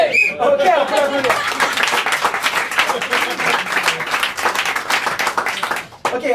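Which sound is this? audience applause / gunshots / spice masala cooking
audience applause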